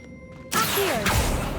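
A Bombarda blasting spell lands in Hogwarts Legacy inside a tomb: a sudden loud crash and whoosh after a quiet moment, then a sustained rumbling roar with a second hit about half a second later.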